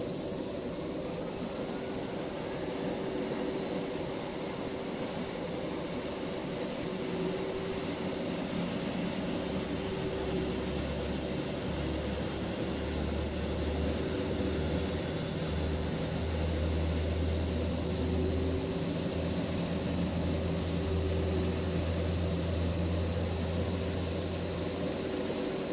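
A Boeing 787-9 jet engine starts in the Project Flight video game, giving a steady, loud hum and whine throughout, with a deep low rumble that swells partway through; no one talks.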